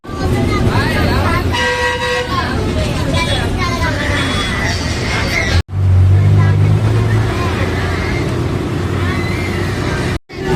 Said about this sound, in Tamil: நம்ம புதுச்சேரி பஸ் ஒன்று போகுது